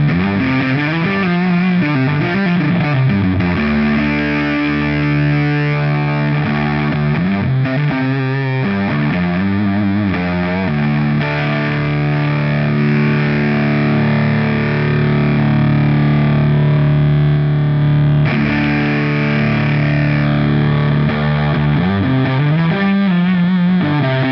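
A distorted electric guitar riff through a Vital Distortion pedal on its asymmetric clipping setting with filter, a brighter, gritty edge, chords ringing and changing steadily for the whole stretch.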